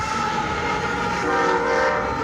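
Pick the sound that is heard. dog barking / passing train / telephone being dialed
passing train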